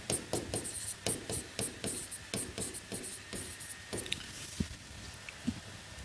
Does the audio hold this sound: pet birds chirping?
no